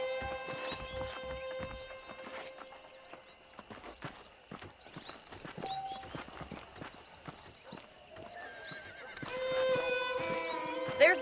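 Horses in the Red Dead Redemption video game whinny and snort while hooves clip-clop at a steady walking pace, with harness jingles and light ambient sounds around them and louder whinnies near the end.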